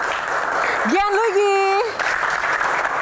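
Studio audience applause, a dense steady clatter of clapping hands filling the whole stretch, with a voice briefly calling out a name over it near the middle.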